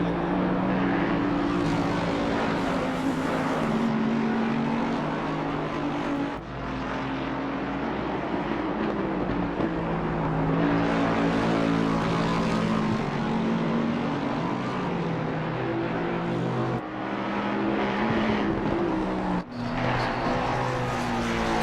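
Race cars fight for position around Laguna Seca's Corkscrew, with the number 95 Ferrari pressing the number 527 McLaren. A loud, steady engine drone holds throughout, its pitch rising and falling as the cars pass close by.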